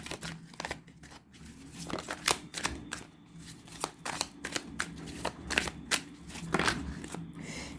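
Tarot cards being handled and dealt, a run of crisp, quick paper snaps and slides at a near, fairly quiet level, irregular in rhythm with faint room noise between.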